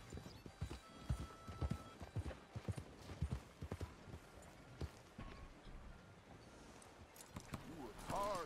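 Horse hooves clip-clop in Red Dead Redemption 2, a steady rhythm of close, distinct thuds at a walk that thins out toward the end, with a brief whinny-like sound at the close.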